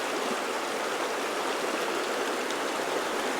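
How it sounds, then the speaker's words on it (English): Creek water flowing steadily at a free camping spot, a continuous broadband rush and babble, close and even throughout with no voices. "So we got to cross the creek first."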